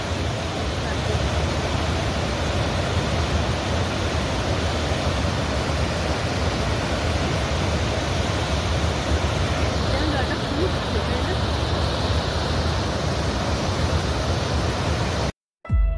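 Water rushing steadily near the Panchet Dam on the Damodar River, set among hills in Purulia, a loud, continuous broadband roar with no break until a brief dropout just before the end.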